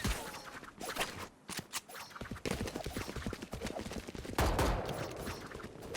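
Rapid gunfire during an esports match, G2 versus SK, in playoff map five. Several quick bursts of shots crack close and loud one after another, over a busy game soundscape.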